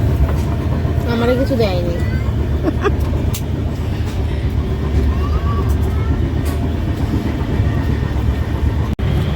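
A passenger train rolls along with a continuous low rumble and rattling carriage noise, heard from inside, while people talk over it.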